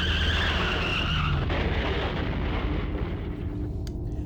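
A video-game car skids and crashes just outside a door in the horror game Corpse Party Blood Drive, a loud tire screech with a heavy rumbling impact that fades over a few seconds, with no talking.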